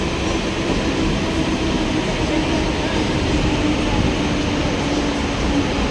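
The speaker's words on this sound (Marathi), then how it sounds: "ट्रेन आली" A train pulls into a station, a steady, loud rumble of wheels and carriages that continues throughout, with voices faintly underneath.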